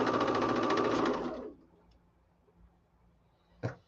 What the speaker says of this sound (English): Do my little back stitch.